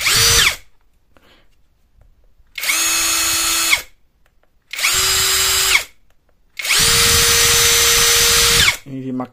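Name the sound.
MLHY 20V cordless drill running at max speed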